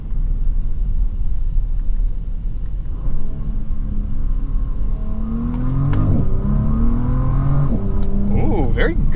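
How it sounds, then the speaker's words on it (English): A Bentley W12 engine rumbles low, then revs up through rising gear pulls with a deep guttural exhaust note, a voice speaking near the end. "very guttural sound out of this one. Maybe a little longer of an exhaust."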